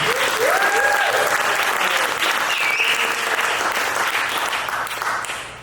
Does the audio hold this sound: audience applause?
yes